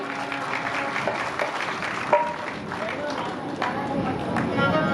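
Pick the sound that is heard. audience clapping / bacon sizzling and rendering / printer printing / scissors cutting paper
audience clapping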